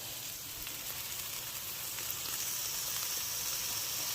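About two tablespoons of tomato paste sizzle in a Dutch oven over medium-low heat, a steady hissing crackle at moderate volume, with no one speaking.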